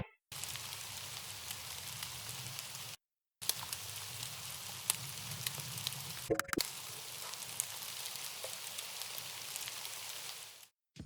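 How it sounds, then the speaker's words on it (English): Steady rain hiss with soft crackling droplets, mixed into a lo-fi beat, running continuously at a low level with a brief dropout near the start and a sharp click before the end. "So I found this rain sample and mixed it with the track."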